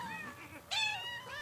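Game cats in a cat-delivery video game give short overlapping meows, one after another, close and clear with no talking.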